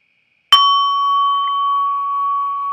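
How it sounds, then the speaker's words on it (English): A gong is struck once with a sharp attack, then rings on with steady, bright sustained tones that hold loud and close for several seconds without fading, heard alone with no talking. "the beautiful gong"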